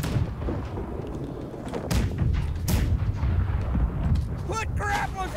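Ship cannons fire at an enemy ship in a schooner naval battle game, heavy booming blasts and rumbling over constant low noise, with someone talking throughout.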